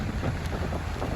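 Wind and rain at Merak harbour in rough weather with high waves: steady gusty roar buffeting the microphone, a short continuous wash of noise with no voices.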